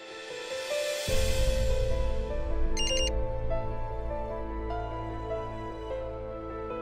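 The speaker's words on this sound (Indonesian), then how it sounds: "malam-malam gini siapa yang SMS?" A mobile phone plays a short, bright text-message notification tone over a steady low background hum, with no talking.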